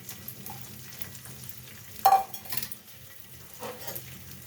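Washed and drained rice fries and is stirred in a pan for rui fish head ghonto, a soft, quiet sizzle with scattered scraping and clinking strokes of the spoon against the pan, heard close with no talking.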